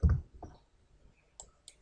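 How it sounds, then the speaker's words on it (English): Sharp computer mouse clicks in a quiet room: a soft cluster near the start, then two crisp, isolated clicks spaced about a quarter-second apart, with no talking. "Let's click OK then."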